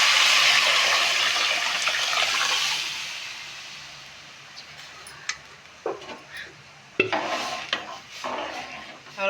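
Sambar is poured into a pot with a long, hissing, splashing rush, then a spoon clinks and scrapes against the metal in short, close taps as it is stirred.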